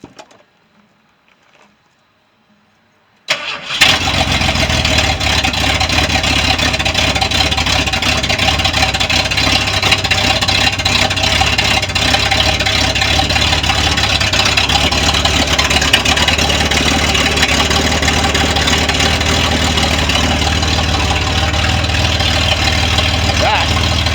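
A 1988 Ford F150 V8 with an upgraded cam and larger valves fires up after near silence, then idles loud and close with a steady, chugging rumble that holds without a break.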